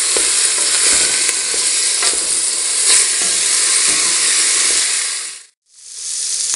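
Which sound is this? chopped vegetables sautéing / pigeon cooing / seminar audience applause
chopped vegetables sautéing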